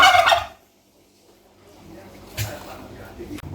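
Bronze turkey hen gobbling in a loud, rattling burst at the start, then quieter calls and farmyard activity, with voices nearby.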